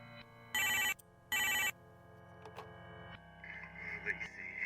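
Two loud bursts of a telephone bell ring in quick succession, followed by quieter background sounds and faint voices.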